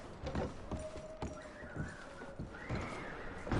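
Horses in the video game Red Dead Redemption clip-clop on hard ground with a faint whinny, set against a busy ambient game soundscape, with no speech.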